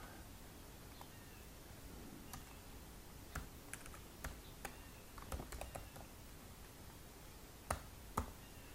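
Quick, irregular keyboard clicks, fairly close and soft, with bursts of keystrokes and a couple of louder taps near the end over a quiet background hiss.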